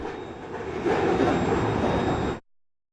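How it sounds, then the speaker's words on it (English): A Union Pacific freight train runs along the south bank of the Columbia River, a steady rumbling roll that swells partway through and then cuts off abruptly. "This is a Union Pacific freight train traveling along the south bank of the Columbia River"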